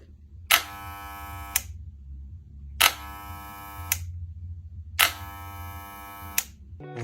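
A Moser 1400 vibrating hair clipper is switched on three times, each start a sharp click followed by about a second of loud buzzing hum, with a quieter mains hum in the pauses between.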